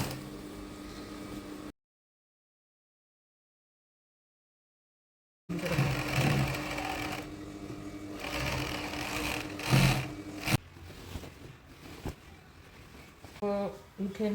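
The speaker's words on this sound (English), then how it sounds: "it's overlocks and stitches at the same time." Overlock sewing machine stitching a duvet cover, rapid whirring runs in bursts separated by pauses, close by, with someone talking between and over the stitching.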